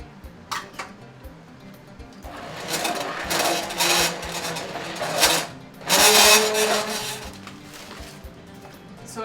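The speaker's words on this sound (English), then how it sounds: "And then after you add the egg, you mix it again." Electric mixer beating eggs, added one at a time, into New York-style cheesecake batter, a steady whirring with clattering against the bowl that grows louder in two bursts, heard alone without talk.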